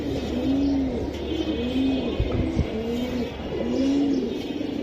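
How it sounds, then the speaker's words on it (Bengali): A pigeon held in the hand gives a series of soft, close coos in a repeating rhythm, about four or five calls over a low background hum with faint distant traffic. "একটা কবুতর ধরেন না, যে কোনো একটা।"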